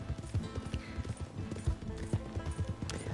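A donkey's hooves clip-clop at a brisk trot in Red Dead Redemption 2, a steady close rhythm of soft thuds over the game's outdoor ambience, with a hint of low voice underneath.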